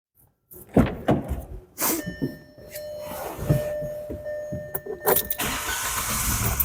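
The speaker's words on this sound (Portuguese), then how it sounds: "E vou dar partida no carro." A car engine starting during an oscilloscope ignition test with an inductive clamp on the coil: clunks and a short cranking whir, then the engine catches and settles into a steady idle close by.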